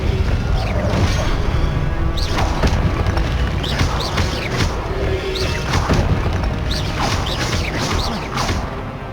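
Confringo fire-blast spell in Hogwarts Legacy, with loud booming impacts, crashes and whooshing spell effects repeating over dense, continuous game combat noise and background music.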